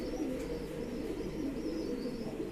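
Pakistani pigeons cooing steadily at close range, a soft low murmur running through the whole stretch with no talk over it.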